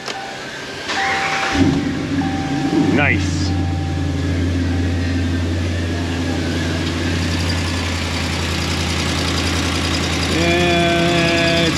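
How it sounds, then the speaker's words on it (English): A car engine with rusted, broken-off exhaust bolts and a leaking exhaust cranks and catches after a short start, then settles into a steady, loud, close idle that runs on throughout, with a brief spoken word early on. "All right, let's go start the engine."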